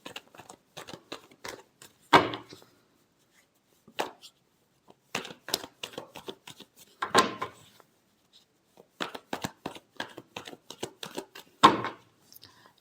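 Tarot cards being shuffled by hand, crisp bursts of riffling and flicking in separate short groups with quiet gaps between, close and moderately loud, no talking.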